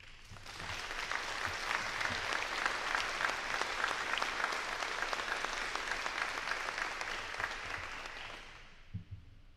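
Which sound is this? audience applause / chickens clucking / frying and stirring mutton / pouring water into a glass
audience applause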